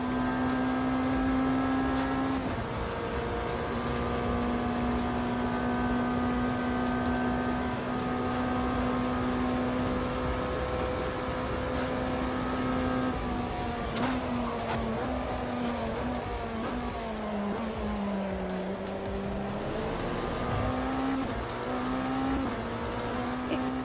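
An LMP1 prototype race car engine in a racing video game drones at steady high revs, its pitch rising and dipping with gear changes as it pulls away, continuous and loud.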